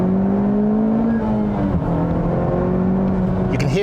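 A 2020 Honda Civic Type R accelerates hard in second gear in comfort mode, its engine a smooth rising whir heard from inside the cabin. The tone climbs steadily throughout the pull and ends in a brief shift sound.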